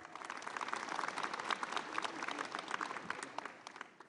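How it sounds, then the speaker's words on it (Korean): Audience applause at the opening ceremony of a maritime industry week event in Busan, a steady crowd of clapping hands heard from a distance, fairly faint and dense throughout with no talk. "다시 한번 큰 박수 부탁드리겠습니다"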